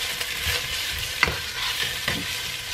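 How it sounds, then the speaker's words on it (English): Ingredients for puffy tacos sautéing in a hot pan, a steady close hiss of sizzling with a few clattering stirs of a utensil, no voices over it. "I'm gonna go ahead and throw these in. And I'm just gonna saute these for"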